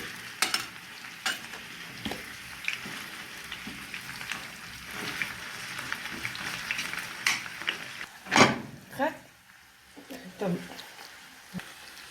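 Minced meat frying with onions in oil in a pan, a steady sizzle with scraping stirs and utensil knocks against the pan, close up, while a person talks over it.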